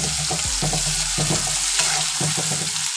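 Finely chopped onion, a large one, sizzles steadily in a hot pan for a raw banana dish, with a spoon scraping and stirring through it in repeated strokes, close and continuous with no talking.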